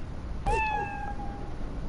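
A single clear cat meow from the video game Fallout Shelter, a short rising then sliding call that trails off over a faint steady background hum.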